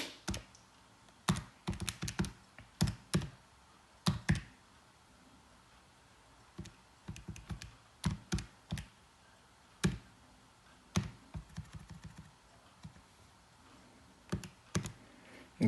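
Irregular bursts of sharp plastic calculator key clicks, tapped in quick clusters with short pauses between, close by and fairly crisp.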